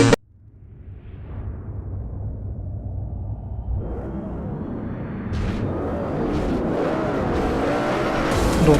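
An upgraded Audi R8 5.2 race car in Forza, heard from the start of a race: the engine builds from a low rumble into a loud, rising roar with gear shifts and tire squeal toward the end.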